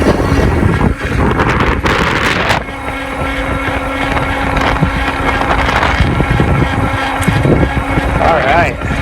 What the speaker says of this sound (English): I'm not pedaling at all, so we're just really giving the motor a workout here.